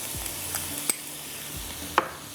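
Ginger garlic paste frying in a pan for Hyderabadi egg pulao, with a steady soft sizzle and a few sharp scrapes and clacks of a spoon stirring against the metal.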